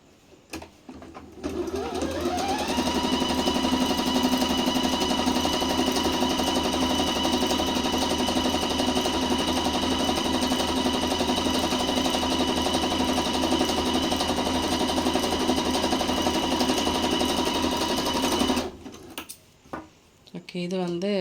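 A tabletop sewing machine runs steadily for about seventeen seconds, a loud, even mechanical whir with a strong hum, starting up after a brief pause and stopping near the end.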